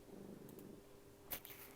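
A cat purrs softly in a faint, low continuous rumble, with a brief rustle near the end.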